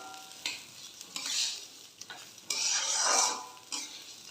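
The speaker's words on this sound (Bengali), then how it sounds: "চালটা আমি একবারে ভেজে নেবো ঘিয়ের সাথেই" Rice being fried in ghee and stirred, soft rasping scrapes and rustles of grains pushed around a pan in uneven bursts over a faint sizzle, fairly quiet and close, with no talking.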